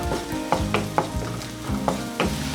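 Fried onions, shallots and garlic with pepper powder stirred in a hot pan for oats soup, giving a steady sizzle with several scraping strokes at a regular pace, close and fairly loud, no voices.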